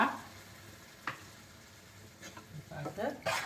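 Mutton liver fries in oil in a pan, giving a quiet sizzle broken by a few stirring scrapes that grow busier toward the end.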